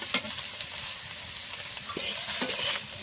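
Mixed fish frying in a hot pan with onion, garlic, chili, turmeric and salt, a steady close sizzle broken by scraping stirs of a spatula.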